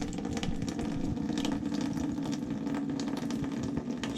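Water flushing from the drain of a home steam boiler with a faulty valve, a steady close rushing and gurgling stream that runs without pause.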